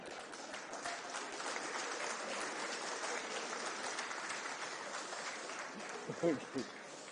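Audience applause at a Shivraj Singh speech, a steady broadband wash of clapping that holds at an even level throughout, with a couple of brief louder bumps near the end.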